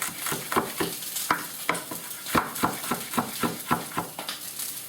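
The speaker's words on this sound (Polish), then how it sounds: "A tutaj nam się łosoś smaży." Salmon sizzling in fat in a hot pan, crackling steadily while a utensil stirs and taps with a rhythmic series of clicks close by.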